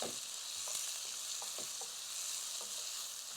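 Onion with crushed garlic and a pinch of salt sautés in a pan, a soft, even sizzle with light intermittent stirring taps, fairly quiet and with no speech.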